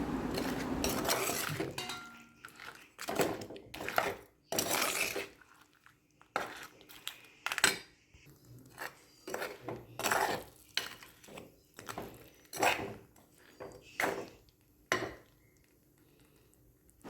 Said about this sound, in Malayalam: ഇനി നന്നായിട്ട് അതൊന്ന് ഇളക്കി മിക്സ് ചെയ്ത് കൊടുക്കാം